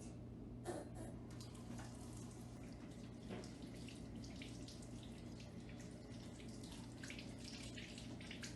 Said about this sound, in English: And then you turn off the water so you don't waste water.